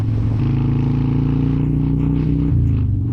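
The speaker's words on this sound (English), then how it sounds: "that was basically just your engine" A motorcycle engine rumbles steadily within an instrumental audio track, a deep continuous drone that shifts pitch partway through, with no voices.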